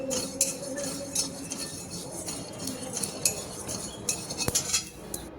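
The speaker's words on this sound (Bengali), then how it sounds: "এবারে শুকনো খোলায় আমি কিছুটা গোটা জিরে ভেজে নিচ্ছি।" Whole cumin seeds are dry-roasted in an empty pan, marked by bright close clinks and scrapes of a metal utensil against the pan in an irregular rhythm, with no talking.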